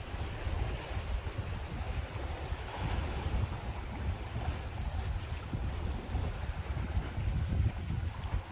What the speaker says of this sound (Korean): 근데 파도는 너무 자잘한 것 같아요